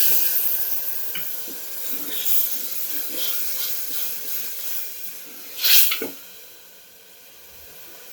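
Dal tadka tempering with soaked tamarind and tomatoes in hot oil, a soft, steady sizzle and hiss with a few faint clinks and one brief louder spluttering burst near the end.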